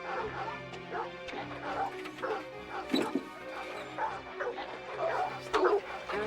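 Several dogs bark, yip and whimper excitedly in an overlapping, restless chorus, close by and fairly loud, with a sharp clatter partway through and no clear speech.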